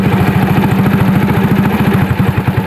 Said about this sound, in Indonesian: kemudian kita starter ini ya. Coba kita tekan, kali starter langsung nyala.